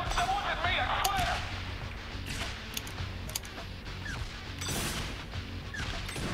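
Video game gunfire from Saints Row The Third crackles in repeated sharp bursts and bangs over a rumbling action background, fairly close and irregular throughout.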